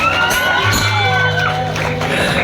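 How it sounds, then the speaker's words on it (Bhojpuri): Audience at a Bhojpuri stage show cheering and shouting in a loud, continuous crowd roar, with voices and whoops over a steady din. "ताली बजाए सभी लोग"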